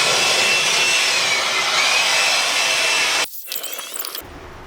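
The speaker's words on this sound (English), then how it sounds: "So we have our blower here." A blower roars steadily while cleaning dirt off the bed of a van under conversion, a loud continuous rushing hiss that cuts off abruptly, followed by brief clattering.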